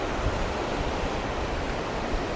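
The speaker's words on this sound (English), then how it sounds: "how windy it is too" Wind sweeps the beach at Can Picafort, Mallorca, as a loud, steady roar of broadband rushing noise with low gusty buffeting, blended with distant surf, continuous for the whole stretch.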